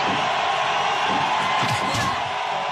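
A wrestling crowd of New York fans at a Power Pro Wrestling show cheers and whoops in a dense, steady roar that fills the whole moment at close range.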